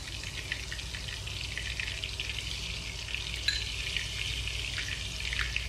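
Soaked tomatoes frying in a pan for chicken tikka biryani, giving a steady, dense sizzle throughout, close and even, with no talking.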